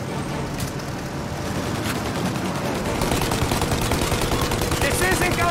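Rapid machine-gun fire from the video game Mafia Definitive Edition rattles continuously at the engines of a plane. The bursts are loud and dense, mixed with engine roar, and grow heavier toward the end.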